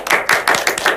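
A classroom of people clap their hands in a short burst of rhythmic, close claps repeating about every fifth of a second.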